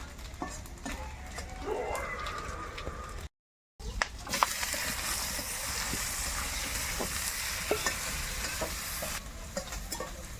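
Onions sautéing in a pan in a home kitchen, a steady close sizzle with occasional stirring clicks and scrapes, broken by a brief gap of silence partway through.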